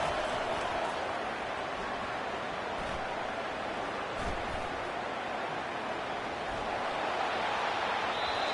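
A home crowd in an NCAA college football video game roars steadily, a dense, unbroken wash of cheering that holds at even loudness.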